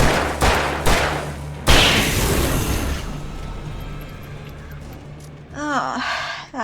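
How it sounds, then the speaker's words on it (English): A flashbang in the Alan Wake Remastered video game goes off as a sharp loud bang with a long ringing, hissing tail, preceded by a couple of quick impacts, with a short vocal sound near the end. "did I waste a flashbang?"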